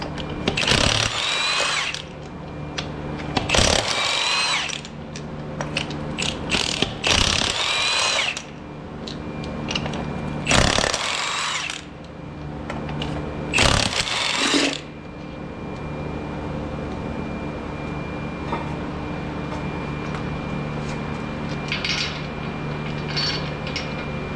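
Impact wrench bursts loosening 7/8 lug nuts on a Chevy Silverado front wheel during a brake job, several loud whirring-rattling runs of a second or two each, close up, separated by pauses and background shop hum.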